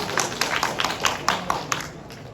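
A small audience at a talk at Apple Hongdae in Seoul claps in irregular bursts to welcome the speakers. The applause is close and moderately loud and thins out toward the end.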